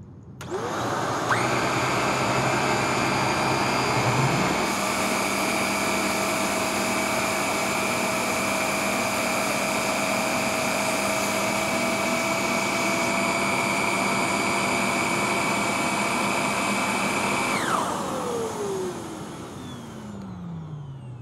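A Shark Navigator Lift Away NV356E vacuum cleaner spins up, runs at a loud, steady high-pitched whine for about thirteen seconds, then winds down with a falling tone.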